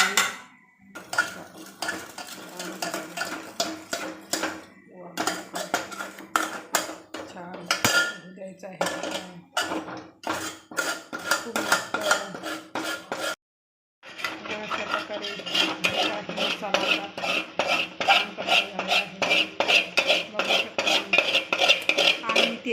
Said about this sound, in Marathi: त्याला आता चांगलं फिरून घ्यायचं आहे